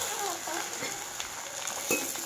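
Mutton brain frying lightly in oil, a soft steady sizzle with faint stirring clinks throughout, fairly quiet and close.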